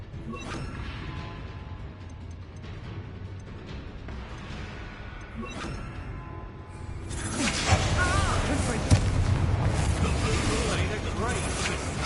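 A Bombarda spell blast in the Hogwarts Legacy video game, a sudden swelling burst of broadband noise rising out of a quieter game soundscape and holding as a rumbling roar, with speech present earlier.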